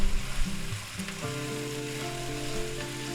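Sliced onions and peppers frying in oil in a pan for a breakfast burrito give a continuous even sizzle, slightly busier at the start, with a faint steady hum underneath.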